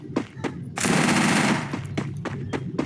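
Rapid automatic gunfire from the shooting game Free Fire, short bursts bracketing a longer sustained volley in the middle, loud and close with no voices.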